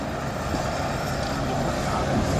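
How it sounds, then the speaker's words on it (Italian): An AgustaWestland AW109 Nexus helicopter of the Guardia di Finanza drones at the 2019 Jesolo Air Show, a loud, steady engine and rotor roar with a voice faintly beneath. "L'elicottero che effettuerà questa dimostrazione è invece un Alfa 109 Nexus costruito dalla società Augusta Westland"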